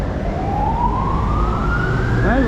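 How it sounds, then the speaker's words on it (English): A nearby ambulance siren wails with a steadily rising pitch over traffic rumble on a Macau street, loud and continuous. "Another ambulance."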